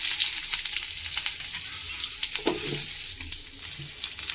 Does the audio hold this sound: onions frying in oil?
yes